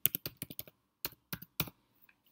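Quick bursts of computer keyboard typing, crisp close clicks in short clusters, then a pause and a few more keystrokes, with a couple of faint taps at the end.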